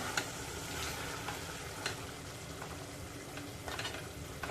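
Steady sizzle of a masala mixture being stirred in a hot pan for a home-style Agri curry, with soft scraping strokes recurring every second or so, close and moderately quiet, no voices.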